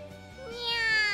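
A cat in The Fruit of Grisaia visual novel game gives a single drawn-out meow that rises and brightens toward the end, close and clear.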